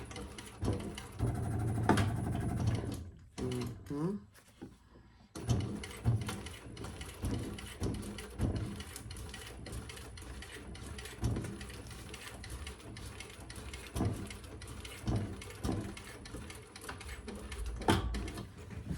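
A sewing machine top-stitches through many layers of leather on a crossbody bag, its needle running in steady mechanical bursts close up, with a brief pause near the start.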